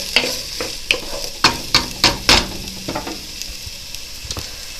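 Soup ingredients including raw onion cook in a pot, with a steady low sizzle under a string of sharp stirring scrapes and clicks from a utensil, close and moderately loud, with no talking.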